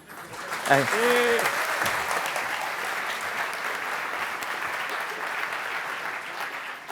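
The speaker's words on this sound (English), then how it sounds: "thank you for the big round of applause there for Kaz" An audience at a Melbourne tech meetup gives a round of applause after a live product demo, sustained dense clapping that swells and then slowly tapers, with a brief voice near the start.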